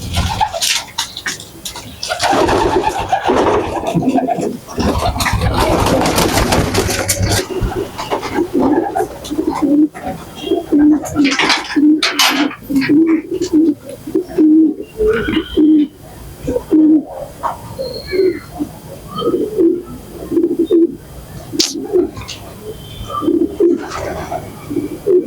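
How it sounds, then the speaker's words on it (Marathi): Racer pigeons of the dhunda type cooing repeatedly in a loft, close and steady low throaty coos through most of the span, with a burst of rustling and flapping near the start and faint voices. "हा ओरिजिनल रेसर कबूतर आहे."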